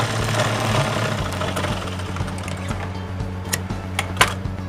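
A sewing machine running a double seam along a blouse shoulder, a steady mechanical whir with rhythmic needle ticks and a few sharper clicks toward the end.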